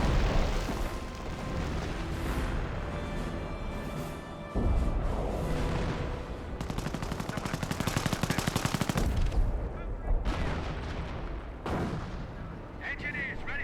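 A 25-pounder artillery barrage in the WWII game Company of Heroes pounds away in heavy, overlapping booms and rapid gunfire bursts, with a voice speaking over parts of the din.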